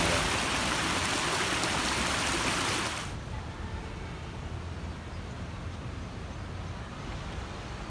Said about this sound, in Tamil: தண்ணி பாஞ்சு அடிச்சு